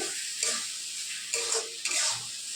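Potatoes and spices sizzling in hot oil with Kashmiri chilli powder, a constant close frying hiss broken by a few stirring scrapes of a spatula against the pan.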